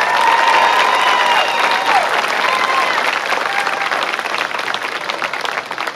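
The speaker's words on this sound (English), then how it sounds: "Let's give the class of 2019 another round of applause" A large crowd applauds the graduating class of 2019 at a senior convocation, with steady, loud, dense clapping throughout and a little cheering mixed in.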